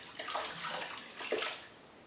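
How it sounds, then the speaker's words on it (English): Sink water is poured over potted Phalaenopsis orchids, a soft splashing wash that comes in two gentle surges and then tapers off. "So now I'll just take some of that sink water"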